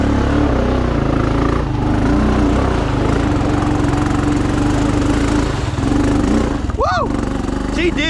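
A Honda 500 motorcycle engine runs loud and close for the whole stretch, bogging down under load, with a voice shouting over it near the end.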